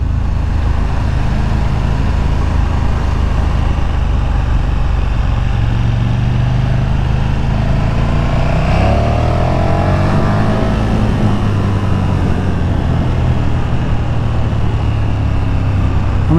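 A 2019 KTM Super Duke 1290R motorcycle pulling hard, its engine note climbing through the revs in rising sweeps under loud, constant wind rush during a ride.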